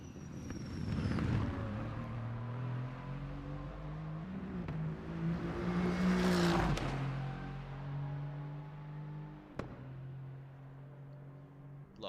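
GT3 race car at Zolder circuit during qualifying: the engine roars and rises in pitch as the car approaches, peaks loudly in passing, then drops away with gear shifts and a lingering drone.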